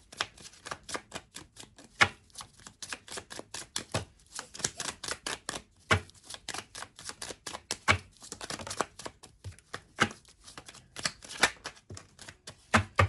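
A deck of dragon oracle cards is shuffled and handled up close, making a fast, irregular run of papery flicks and taps that continues for the whole stretch with no talk.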